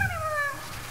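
A cartoonish video-game cat gives one short, close meow that slides downward in pitch, heard alone and lasting about a second.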